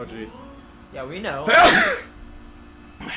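A cartoonish character in the Sam & Max adventure game lets out one sharp, loud sneeze, framed by casual talk before and after.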